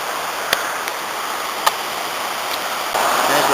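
Afon Ysgethin river near Tal-y-bont village running high after heavy rain, a steady broadband rush of water heard from a distance, with a few faint knocks and a brief lift in volume near the end.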